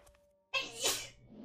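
A single loud sneeze bursts out abruptly after a brief quiet moment, close to the microphone, with no talking around it.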